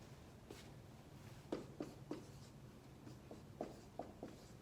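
Someone writes an equation by hand, giving faint, close scratchy pen or marker strokes in short irregular taps over a quiet background hiss.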